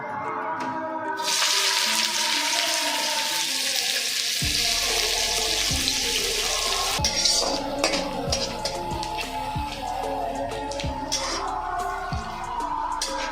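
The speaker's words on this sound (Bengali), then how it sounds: "সবার ফার্স্টে আমি তেলের মধ্যে পেঁয়াজগুলো দেবো" Onions going into hot oil for a home-style Bengali egg devil and egg rice dish: a steady, loud broadband sizzle that swells as they hit the oil, with periodic thumps and utensil knocks underneath.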